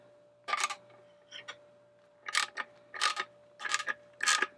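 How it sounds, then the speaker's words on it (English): A 10mm ratchet wrench clicks on the horn cover nuts of a Harley-Davidson Road Glide Ultra, giving short, close bursts of quiet mechanical ratcheting in an irregular rhythm against a faint steady background. "I'm going to use a 10mm ratchet wrench."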